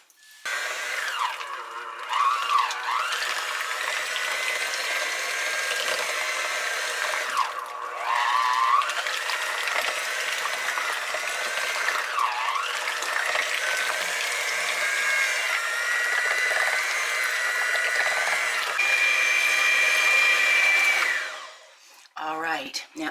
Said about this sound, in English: I'll get my mixer in here